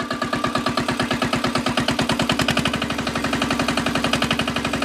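An Indian power tiller engine runs hard in a fast, even chugging rhythm, each firing pulse loud and close as the throttle is held up, with no talking.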